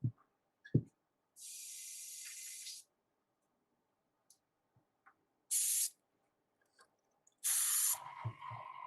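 An airbrush loaded with paint that keeps clogging gives short bursts of spray, three separate hissing blasts with quiet gaps and small handling clicks between them, heard close and alone.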